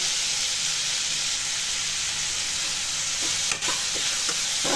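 Sliced onions sauté in oil with a pinch of salt. A loud, continuous close sizzle and hiss runs throughout, with a few soft spoon taps near the end and no talking.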